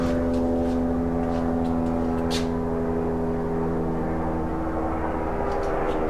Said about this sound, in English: You can hear the Life Flight helicopter.